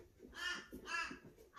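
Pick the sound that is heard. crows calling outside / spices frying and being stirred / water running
crows calling outside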